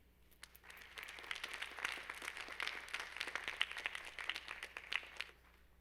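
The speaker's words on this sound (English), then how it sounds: "a warm round of applause once again for Dr. McClutchan" An assembly audience at a veterans recognition event gives warm applause for Dr. McClutchan, a soft, distant patter of many hands swelling and then tapering off, with a low steady hum beneath.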